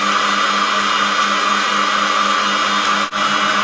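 An electric cream separator rated at 80 L/H runs with a loud, constant motorised whine and hum, broken by one brief dip near the end.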